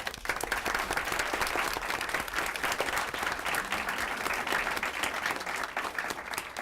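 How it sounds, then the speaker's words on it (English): At a school board meeting, an audience gives a round of applause for standing students from the Cruising Into the Future program, a full, continuous wash of clapping that stays level for nearly seven seconds. "Let's give them a round of applause."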